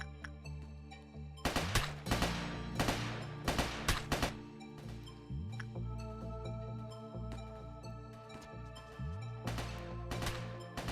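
Agents fire guns at a creature in Lobotomy Corporation: clustered bursts of sharp gunshots, loud and near, recurring every second or two over a steady game background hum.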